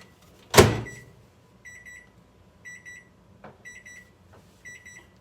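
A new kitchen timer's buzzer beeps in short triple bursts that repeat at a steady pace, fairly faint, after a sharp bang at the start in an otherwise quiet kitchen.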